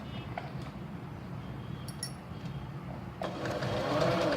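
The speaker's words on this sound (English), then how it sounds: "Now I will start with sewing it." A sewing machine stitches a kurti neckline, a steady low mechanical whir running throughout that grows a little louder and busier toward the end, heard up close without speech.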